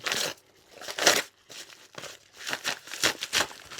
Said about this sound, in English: So, not the most conventional way to open an envelope.